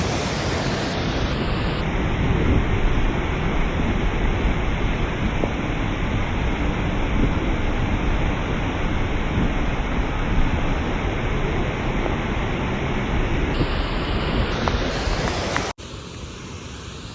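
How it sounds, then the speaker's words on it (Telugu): Jang waterfall in the Himalayan highlands roars as a dense, steady rush of falling water, loud and unbroken throughout, then cuts off abruptly near the end. "చూశారు కదా వాటర్ ఫాల్స్"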